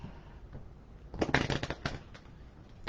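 Playing cards being shuffled at a small home desk, a short burst of riffling and flicking in the middle, close and fairly quiet, with softer card handling before and after.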